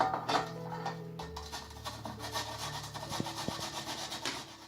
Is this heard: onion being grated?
yes